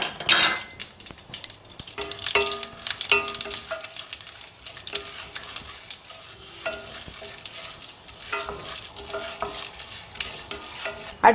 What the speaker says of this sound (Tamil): இப்போ பாருங்க எண்ணெய் சூடாயிருச்சுங்க. அதில் நம்ம கடுகை போட்டுக்கலாம்.